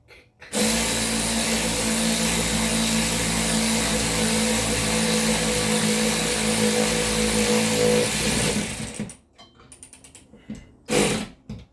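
A cordless power drill drives a screw into wood while mounting a TV, a steady loud motor whine with ratcheting grind lasting about eight seconds, then stopping abruptly, followed by a few brief handling clunks.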